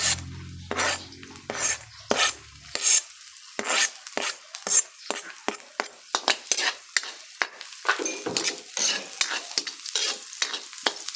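Garlic frying in a pan for pork adobo, heard as bursts of loud sizzling and scraping stirs with short pauses between them; a low hum fades out early on.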